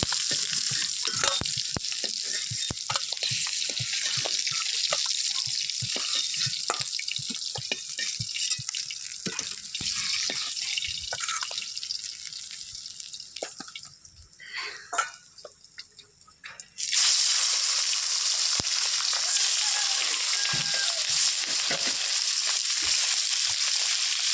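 Pieces of katla fish frying in hot oil give a steady, loud hiss with crackles and pops, briefly quieting as the fish is moved, then sizzling strongly again.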